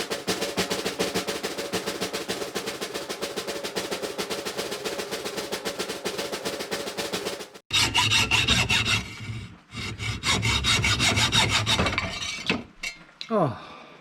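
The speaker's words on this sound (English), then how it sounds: "Well, the sawing part is done at least." Hand sawing through metal with a handsaw while restoring a 1967 Jeep Wagoneer starter, a steady rapid rasping of close strokes that stops midway, then resumes rougher and more irregular with clinks.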